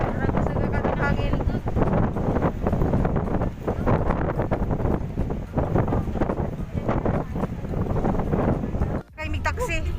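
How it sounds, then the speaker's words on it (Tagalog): Strong wind batters the microphone outdoors in Cebu, a heavy, continuous low rumble with gusty surges that carries on beneath a person talking. "Guys, nagkakatong hangin."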